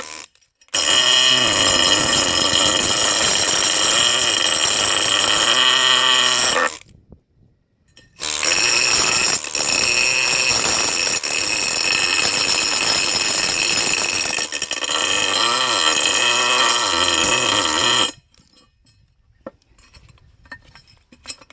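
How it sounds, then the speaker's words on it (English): A pneumatic needle scaler chips corrosion off the U-bolts of a 1989 GMC truck. It gives a loud, steady metallic rattling in two long bursts with a short pause between them, then stops and leaves near silence. "the only way to get it off is chip it off with a needle scaler"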